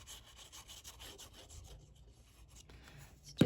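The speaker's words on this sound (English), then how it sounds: "make sure to burnish those in place" Paper flaps on a handmade 5x7 interactive mini album are rubbed down with faint, repeated scraping strokes, close and quiet, ending in a brief louder knock.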